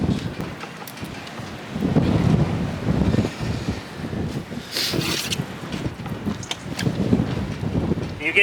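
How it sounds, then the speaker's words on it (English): Gusty wind buffets the microphone in uneven bursts, rumbling loudly outdoors on a farm with chickens and quail, with faint voices mixed in. "It's a windy day today"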